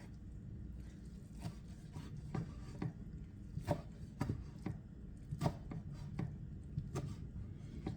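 An Egyptian eggah of egg, ground beef and spinach chopped in the pan, repeated sharp knocks of the utensil against the pan at an irregular pace, fairly quiet and close.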